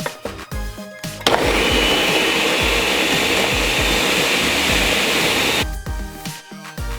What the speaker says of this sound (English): cover this up and let it blend for approximately 5 minutes, depending on what kind of blender you have